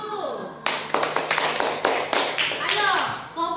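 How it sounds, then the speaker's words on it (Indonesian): A class of schoolchildren claps their hands in applause, a burst of close, uneven claps with children's voices talking over it. "Oke, tepuk tangan dulu."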